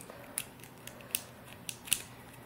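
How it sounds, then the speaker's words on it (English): Small screw on an embroidery hoop being turned to loosen it, giving faint close creaks and irregular little clicks and ticks over a few seconds, with no talking. "So I'll get it nice and loose by turning that little screw."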